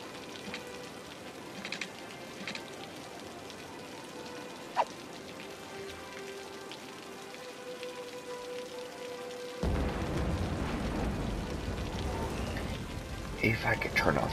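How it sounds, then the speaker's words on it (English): Rain in the city-building game Cities: Skylines, a soft steady patter that swells into a louder, denser downpour partway through, with occasional sharper drops near the end. "If I could turn off the rain,"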